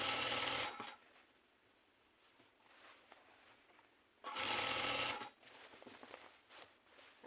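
A sewing machine stitching a belt runs in two short, loud bursts, one at the start and another a few seconds later, with quieter handling noise between them.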